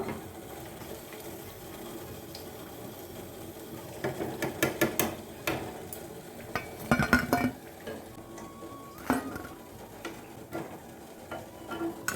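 Fried mung dal gokul pitha lifted into a pot, heard as quiet background kitchen noise broken by a series of clinks and clatters of utensils against metal, several small bursts.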